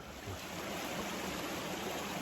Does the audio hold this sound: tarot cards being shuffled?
no